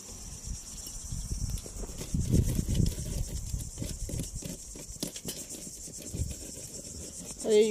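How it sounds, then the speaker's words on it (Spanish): A high, steady insect drone of cicadas hums continuously in the background, with scattered rustles and footsteps closer by. "Escuchemos las chicharras."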